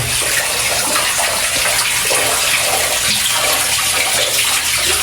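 Water pours steadily out of a cave at Bekal Fort in Kasaragod, a loud continuous rushing and splashing with no pauses and no voices.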